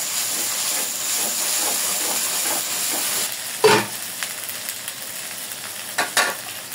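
Spices with ginger and garlic paste stirred and frying in a pan, a steady close sizzle with repeated scraping strokes and a few sharper knocks of the utensil.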